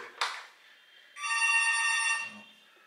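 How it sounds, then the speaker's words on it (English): A telephone rings in a hotel executive suite at the Four Seasons Hotel Cairo at Nile Plaza, with one clear electronic ring burst over a second, loud and near, after a short thump. "Somebody's calling already, damn. Babe, answer the phone."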